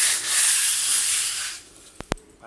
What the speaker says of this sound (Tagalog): lilihain nyo siya ganyan para kumapit yung pintura